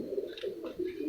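Soft, repeated cooing from a silver-coloured female racing pigeon being handled, several low throaty coos in a loose rhythm, close and fairly quiet.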